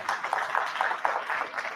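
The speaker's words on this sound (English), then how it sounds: "you can give her a round of applause" Audience applause at a business event in Bloemfontein, a short stretch of steady, fairly faint clapping from a room of people, dense and even without a clear rhythm.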